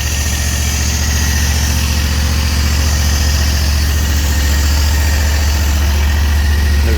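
A Predator 670 engine on a Hustler 980 mower runs at a steady idle, a loud, close, continuous low rumble with even vibration and no change in pitch.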